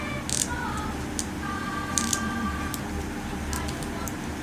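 Ratcheting leg joint of an Ultraman S.H.Figuarts action figure being rotated, giving a few faint, quick plastic clicks spread across a low background hum.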